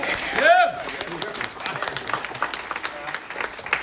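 Audience applause greets a speaker at a K-Beauty company presentation at headquarters in Irvine, California, a dense wash of clapping with whoops and excited voices rising early on, then settling into steady applause throughout.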